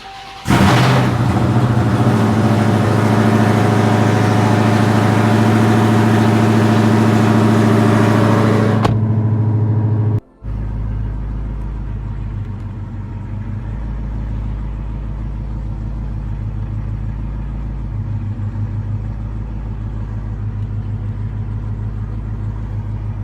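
A Dodge Challenger SRT Hellcat V8 fires up with a loud burst of revving, then cuts briefly and settles into a steady, deep, rumbling idle close by, with no talking.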